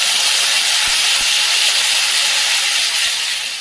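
Mustard seeds and roasted onion paste sizzling in hot oil in a kadhai, heard as a loud, steady, close hiss with a few faint low thumps.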